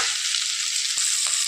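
Pumpkin and other vegetables for sambar cook in a pan, giving a brief, steady, close frying hiss with a couple of faint soft knocks.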